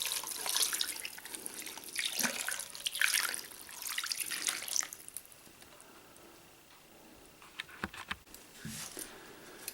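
A 14.5 ounce can of chicken broth pours into a pot, with a continuous splashing liquid stream for about five seconds, then quieter drips and small clinks.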